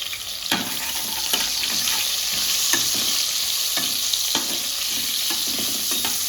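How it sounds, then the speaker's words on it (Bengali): Potatoes frying in hot oil in a home kitchen, salt and turmeric added, give a constant loud sizzle, broken by several sharp scraping stirs of a spatula at irregular intervals. "আলুগুলো ভেজে নেব।"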